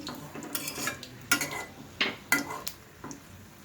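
Frying in homemade ghee in a pan while making Mughlai paratha with eggs, flour and mung dal: soft steady sizzle with several sharp metallic clinks of a utensil against the pan, close by.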